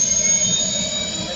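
Emergency helicopter lifting off, a loud, steady turbine whine with a high-pitched tone over broadband rotor roar, close and continuous throughout.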